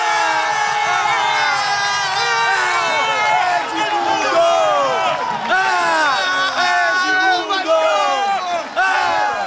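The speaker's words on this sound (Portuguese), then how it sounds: "A torcida vai à loucura aqui em São Januário" Vasco fans roar at São Januário stadium after Edmundo's penalty goal. A loud, sustained crowd cheer with rising chants and whoops carries on throughout.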